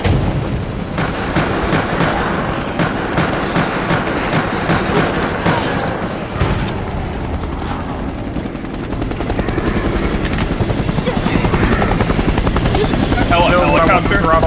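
Helicopter rotor din from the video game Resident Evil Operation Raccoon City, loud and continuous, with rumbling booms and gunfire-like bursts mixed in, while a player talks over it.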